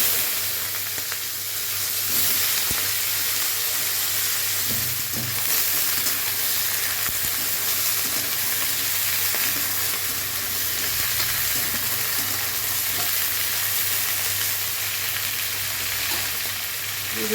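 Onion, potato and pointed gourd fry in mustard oil with black cumin in a pan, giving a steady, close, even sizzle that hisses on without any talking.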